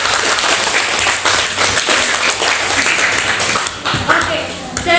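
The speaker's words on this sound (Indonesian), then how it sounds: "Berikan aplaus sekali lagi." A classroom group claps for classmates who have just presented their discussion results, a dense, lively round of applause with a voice speaking over it.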